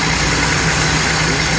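A 1960 GMC truck engine idles close by, a loud, steady rumble with a low, even hum and no talking.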